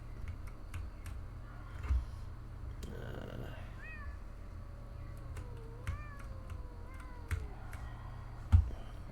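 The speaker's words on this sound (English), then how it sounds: "Where is this cat that I keep hearing?" A cat meows several times in the video game Pathologic 2, drawn-out rising and falling cries, fairly faint, over a low steady hum and a few scattered clicks.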